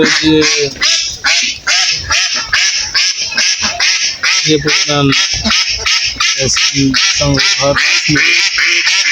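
Ducks quack in a steady stream of repeated calls on a duck farm during vaccination, loud and close, with someone talking over them throughout.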